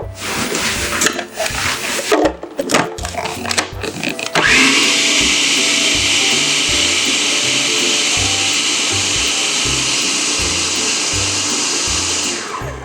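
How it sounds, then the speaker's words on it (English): Electric mixer beating a mango key lime tart filling, clattering bursts of whirring at first, then a loud steady high-pitched motor drone running on without pause and no talk over it. "Maybe just a tad more mixing."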